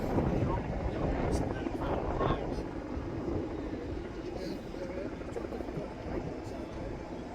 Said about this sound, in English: the aircraft departs with over-the-shoulder transition